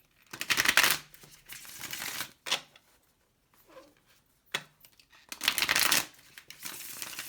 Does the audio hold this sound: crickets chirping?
no